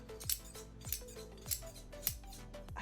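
Famore cutlery scissors snip in a steady rhythm, five crisp close-up metallic cuts spaced about half a second apart, each a sharp bright click with a short ring, alone with no talking.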